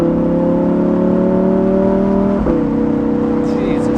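A Lamborghini Huracan EVO Spyder accelerates on the road as its V10 drones loud and steady. Pitch rises slowly, then dips sharply at a quick gear change and settles into a lower hum. A brief exclamation from the driver breaks through.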